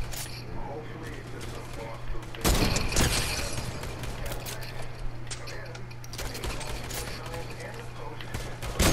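Gunfire in the Fortnite video game, with a loud close burst of shots, then scattered rapid cracks over a constant low hum as a person talks throughout.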